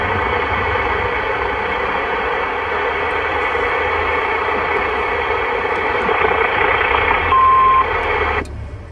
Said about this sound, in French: j'ai entendu des Roger Bip là dans tous les sens